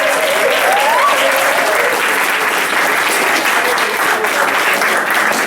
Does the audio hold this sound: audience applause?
yes